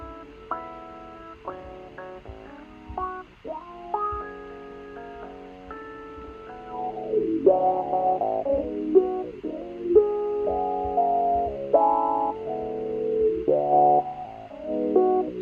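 Synthesized tones run through an AutoFuzz effect with distortion added after the post filter, producing buzzy, gritty sustained notes and gliding pitches that grow louder and more saturated partway through, with no talking.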